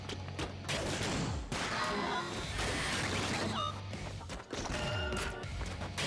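Dense, rapid gunfire from an inaccurate weapon fills a fight in the ScourgeBringer action game, mixed with impacts, whooshing effects and game music, continuing almost without a break.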